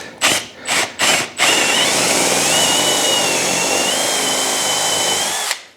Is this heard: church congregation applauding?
no